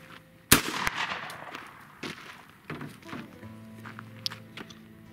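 Shotgun firing a reloaded Fiocchi Dove shell, one sharp loud report near the start, followed by faint thumps and handling noises that fade into quiet.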